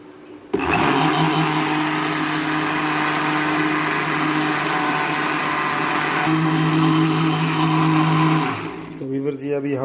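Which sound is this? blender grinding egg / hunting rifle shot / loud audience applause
blender grinding egg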